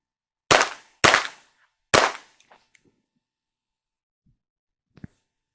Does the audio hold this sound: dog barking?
no